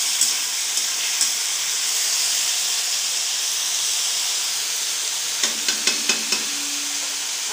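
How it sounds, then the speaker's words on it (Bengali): Potatoes fry in a pan in a village-style Bengali kitchen during the monsoon, with a steady close hiss and sizzle. A few light stirring clinks come toward the end. "আলু ভাজা হচ্ছে"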